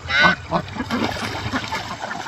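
A Cayuga duck in a barnyard gives a run of loud, nasal honking calls up close, a strong burst at the start followed by quicker, softer quacks.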